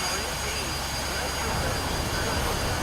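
A Su-25 jet engine whines steadily while the aircraft taxis in the DCS World flight simulator, a constant, broad roar with a high tonal hum throughout.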